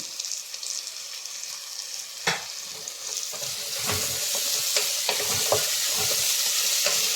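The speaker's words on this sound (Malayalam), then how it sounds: "ഇതെല്ലാം കൂടി നല്ലപോലെ ഒന്ന് വഴന്നു വരട്ടെ" Tomatoes and ginger-garlic paste sauté in a pan for pasta, a bright hissing sizzle that swells slightly while a spoon gives several scraping stirs close up, no voices.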